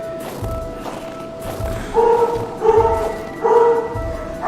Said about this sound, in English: my dog's barking at absolutely nothing